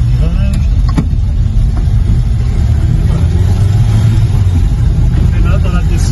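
A 1985 Renault 4 TL shifts into first gear for a bend, its mid-pitched engine droning loud and close throughout with a slight change in revs, steady interior rumble and no talk.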